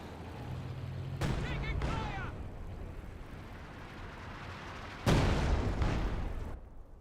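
Artillery barrage in Company of Heroes 2: two heavy crashing impacts, the first near the start with crackling debris, the second louder around the middle-late portion, over a steady battle rumble.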